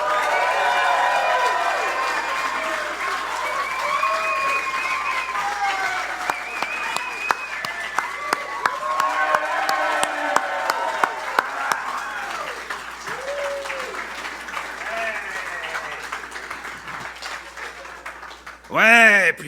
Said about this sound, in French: faites un tonnerre d'applaudissements pour Didier et Daddy